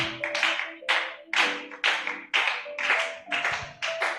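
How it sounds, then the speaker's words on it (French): A church congregation claps hands in a steady rhythmic beat, about two claps per second, moderately loud with no speech over it. "Est-ce qu'on peut joindre nos deux mains afin d'acclamer le Seigneur?"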